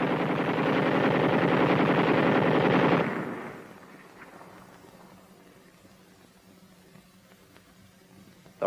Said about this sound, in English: the Tommy gun will fire at the rate of about 600 rounds per minute